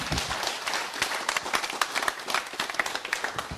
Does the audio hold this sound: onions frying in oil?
no